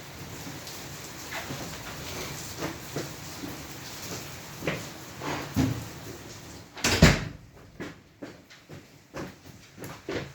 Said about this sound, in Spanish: Déjenme cerrar la puerta porque está lloviendo.